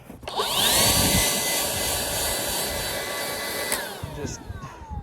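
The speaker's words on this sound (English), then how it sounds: "for good measure, we're going to take the leaf blower" A leaf blower roars steadily and loudly close by, its motor pitch holding constant with slight shifts, no voices.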